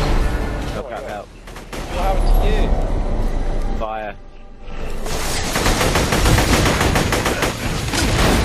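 Enemies in Borderlands: The Pre-Sequel unleash sustained, loud gunfire, rattling automatic volleys dominating the scene with a brief lull midway before the barrage resumes, dense and close.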